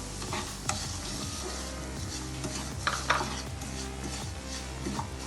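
Semolina roasts in ghee in a kadai, a soft steady sizzle under a few stirring scrapes and light clinks of a spoon against the pan, with no voices.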